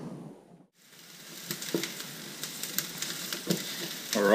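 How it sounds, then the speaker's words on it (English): Onions fry in oil in a pan, with a steady close sizzle and occasional crackles and pops that build louder toward the end. "we're just going to put a bit of oil in the pan again. And introduce the onions."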